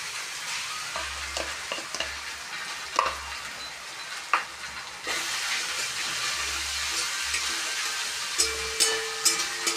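Ginger-garlic paste frying in oil in a kadai with pointed gourd, a continuous crackling sizzle with sharp spatula scrapes and clinks against the pan at irregular intervals, close and steady.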